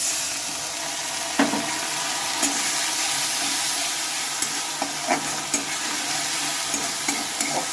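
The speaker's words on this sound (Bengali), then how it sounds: "বাটা মশলাটা তো দিয়ে নিলাম আমি দিয়ে ভালোভাবে মিশিয়ে নিচ্ছি" Ground cumin, ginger and garlic paste being stirred with a little water in a pan, a steady sizzle with scattered soft scraping clicks from the spoon throughout, close and moderately loud, no voices.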